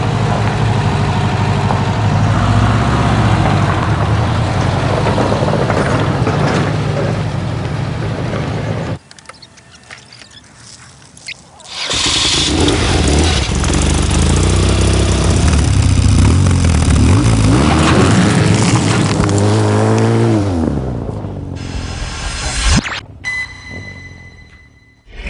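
A 2014 BMW R1200GS motorcycle engine runs loud and close, idling and revving with rising and falling pitch sweeps, dropping out briefly mid-clip before picking up again, with no talking.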